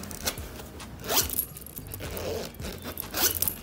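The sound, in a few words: zipper on a bag being opened or closed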